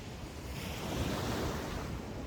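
Waves break at the water's edge in a constant, close wash of surf, mixed with heavy wind rumble across the microphone.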